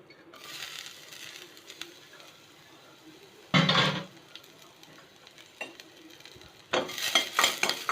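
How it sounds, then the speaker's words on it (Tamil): Crushed garlic roasting in ghee gives a soft steady sizzle, broken by a loud scraping stir mid-way and a burst of clattering utensil strokes against the pan near the end. "பாருங்கள், பூண்டும் நல்லா வறுத்துட்டோம்"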